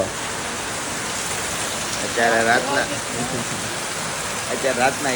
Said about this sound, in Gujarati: વરસાદ એવો આવે છે કે તમે વાત ન પૂછો